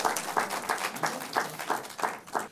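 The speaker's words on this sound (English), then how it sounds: "A round of applause for all of them." Audience applause at a university law quiz competition between University of Ghana and KAAF University College, heard as a moderate, steady patter of clapping with rhythmic swells over about two and a half seconds.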